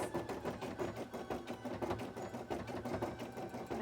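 A sewing machine stitches cosplay fabric in a steady, fast, even whir of needle strokes that runs unbroken close by.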